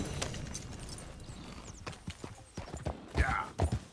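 Horse hooves clip-clop in a quick trotting rhythm, close and distinct, the beats growing louder and heavier toward the end over a faint background.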